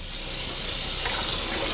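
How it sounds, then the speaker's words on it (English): Water from a tap running steadily into a sink, a continuous close hiss and splash over its short length, alone without talk. "let's get a little water in the sink"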